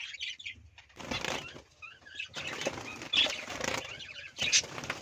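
Prince birds flap their wings in bursts of fluttering as they are caught by hand, the close, busy wingbeats coming in several short flurries with faint chirps between.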